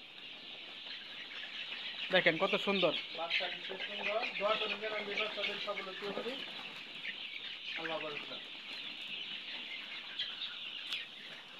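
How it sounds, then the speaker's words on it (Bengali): Chickens wander about after feeding, a steady chorus of clucking and bird chatter across the yard, with someone talking over it for several seconds and again near the end. "সবাই সব মুরগিগুলো খেলাধুলা করতেছে, খাবার খাওয়া শেষ, একটু ঘোরাঘুরি করতেছে, হাঁটা চলাচল করতেছে।"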